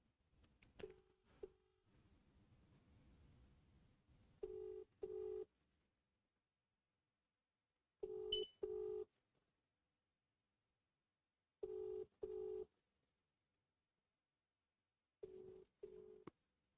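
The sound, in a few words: telephone ringing on an unanswered call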